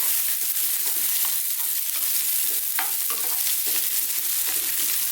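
Sliced white onion frying over maximum heat in a vegetable stir-fry pan, giving a dense, continuous loud sizzle with occasional stirring scrapes and pops, and no voices.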